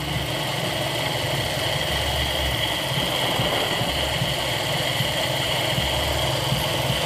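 A Toyota Kijang 5K carbureted engine idles steadily close by, a low, even rumble holding constant throughout with no voices over it.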